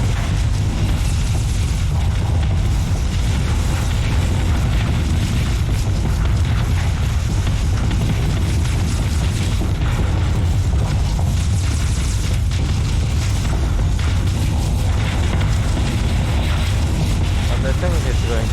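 Spaceships fire weapons and explosions boom in the space combat game Starsector, a dense, loud, continuous rumble of blasts and impacts with voices talking over it.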